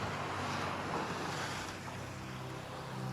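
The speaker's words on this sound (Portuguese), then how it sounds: "talvez o barulho do mar" Steady broadband roar of ocean waves and surf washing continuously, with a windy, rushing texture throughout and no voices.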